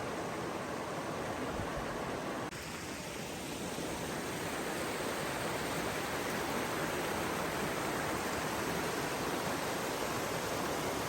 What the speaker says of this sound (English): I can hear the river down below, and the wind is picking up a little bit.